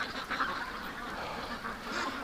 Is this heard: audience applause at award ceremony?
no